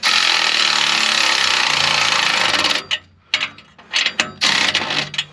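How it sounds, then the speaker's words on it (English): A wrench tightens exhaust bolts on a 1968 Ford Thunderbird with a 429 Thunderjet big-block V8. Loud continuous mechanical noise comes first, then several short, close ratcheting bursts separated by brief pauses. "So be right back with a wrench. Okay, y'all, now we're just gonna cinch this up good and tight here."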